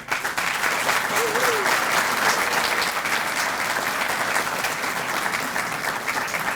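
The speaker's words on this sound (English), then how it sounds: "give our awardees, our team, a great round of applause" Sustained audience applause fills a police promotion and swear-in ceremony in Southfield, a dense, steady wash of many hands clapping at even loudness throughout.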